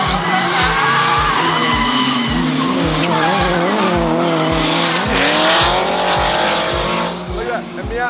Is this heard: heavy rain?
no